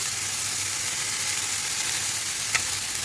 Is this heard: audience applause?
no